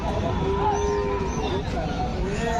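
At a crowded livestock market, buffaloes and young buffalo calves low and moo in drawn-out calls over a dense murmur of crowd noise and people talking.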